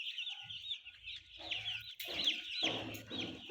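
Chickens in a poultry house holding about 295 birds, a flock clucking and squawking in busy overlapping calls, with short louder bursts from nearby hens, no talking.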